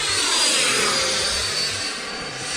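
An RC model airplane with its landing gear down comes in to land, a loud, steady, close engine whine with a shifting pitch sweep and no voices.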